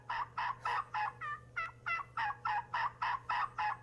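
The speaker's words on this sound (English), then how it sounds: "This one is a turkey." Turkey gobbling in a rapid, rhythmic string of about a dozen loud, close calls over a steady low hum.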